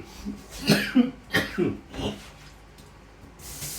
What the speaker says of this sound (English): Cough is going away for the most part.